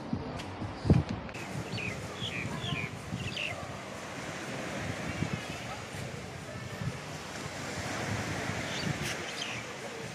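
Surf washes onto the beach at Lamai, Koh Samui, a soft continuous roar of waves mixed with wind noise and faint background voices, with a sharp thump near the start.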